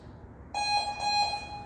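A single electronic timer beep sounds, a bright steady tone lasting about a second, moderately loud against quiet background.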